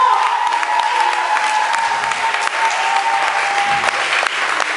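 A church congregation applauds and acclaims the Lord during a French sermon, a sustained, loud roar of clapping and crowd noise with a faint held musical tone running beneath it.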